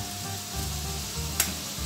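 Onion, yellow chili, garlic and huacatay frying in a pan, a steady close sizzle with faint stirring scrapes and one brief sharper crackle.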